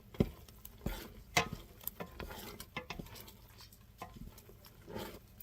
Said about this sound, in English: Now I can reduce the heat and start stirring more.